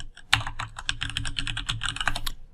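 Brisk, close typing on a computer keyboard as a search query goes into a browser, a continuous flurry of loud key clicks filling the whole stretch with no voices.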